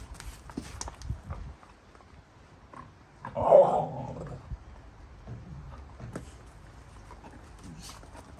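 A pet dog gives a short low growl midway through, close by and moderately loud, amid quiet indoor shuffling and soft footsteps.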